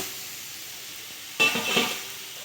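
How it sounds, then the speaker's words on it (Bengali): Boiled cabbage tipped into a pan of fried potato and pumpkin sets off a sudden loud sizzle that hisses on and slowly settles over a low background hiss. "এবার এই বাঁধাকপিটা যে সেদ্ধ করে রেখেছিলাম সেইটা দিয়ে দেবো"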